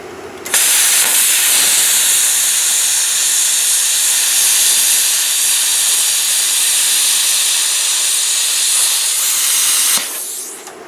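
VEVOR 50-amp non-touch pilot arc air plasma cutter slicing through metal, a loud, close, steady hiss that bursts on abruptly and runs unbroken for about nine seconds before cutting off.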